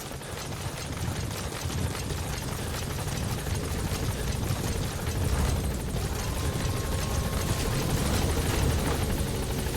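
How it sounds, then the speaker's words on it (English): Support helicopter in Metal Gear Solid V, a steady loud rotor drone with broadband whooshing that holds throughout, swelling slightly toward the end. "Support helicopter has arrived."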